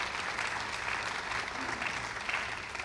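Applause at a Friends of the Riverwalk ceremony for Rodney Kite Powell, a dense, steady wash of clapping from a crowd sustained throughout.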